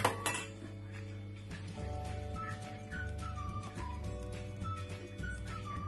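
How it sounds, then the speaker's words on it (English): A spoon or hands work through spices for Chicken 65 in a bowl, giving steady clinks and scrapes against the dish over a continuous background hum with faint whistling tones. "Mix the spices first."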